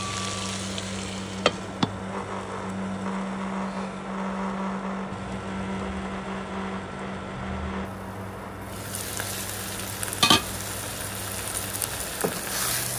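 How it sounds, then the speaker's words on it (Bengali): Figs cooking with spices in a pan, stirred partway through: a steady close sizzle under a low hum, with a few sharp clinks of the spoon against the pan and no talking. "মাঝখানে আমরা আরেকবার একটু নাড়িয়ে দিচ্ছি, মানে নেড়ে দিচ্ছি আর কি।"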